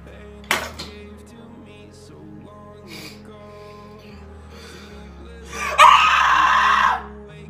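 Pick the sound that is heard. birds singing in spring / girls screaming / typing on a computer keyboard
girls screaming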